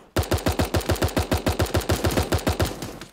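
Rapid automatic gunfire from the video game Super Animal Royale, a loud steady burst of about fifteen evenly spaced shots over three seconds, with no talk.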